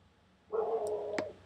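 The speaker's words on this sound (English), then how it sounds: "there's the neighbour's dog" A neighbour's dog lets out a single drawn-out, whining bark, heard from some distance in an otherwise quiet room.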